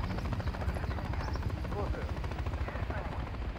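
An enemy helicopter in the video game Call of Duty Modern Warfare 3 gives off a continuous rotor thrum through the whole stretch, mixed with muffled game noise.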